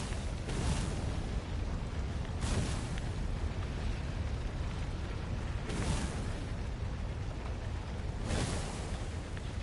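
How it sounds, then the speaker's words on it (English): Cannon traps firing in an ancient temple in the video game Stories: The Path of Destinies, four loud booming blasts at regular intervals over a constant dense rumble, with no talking. "Renato hated cannon traps."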